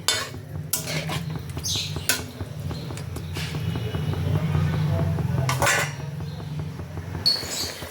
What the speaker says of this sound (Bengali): এবার এগুলোকে ঝোলের সাথে ভালো করে মিশিয়ে নিতে হবে